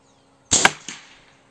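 A single air rifle shot fires a Slug Monster pellet through a Fiora 600mm barrel, a sharp close crack with a quick metallic after-tap and brief decay in quiet surroundings.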